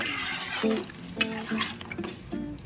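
Chicken in a pot with added water being stirred, heard as close scraping and clinking of a utensil against the pot in uneven strokes over a soft bubbling hiss.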